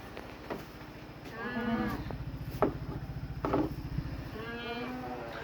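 Goat bucks bleat repeatedly at close range, several wavering calls spaced through the moment over a constant low rumbling hum.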